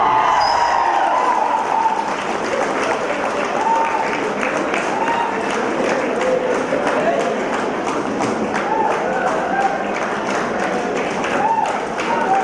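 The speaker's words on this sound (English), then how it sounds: "A big round of applause." A seated crowd at a science department graduation ceremony claps steadily for a welcome, a sustained, even round of applause with a few murmured voices mixed in, filling the hall throughout.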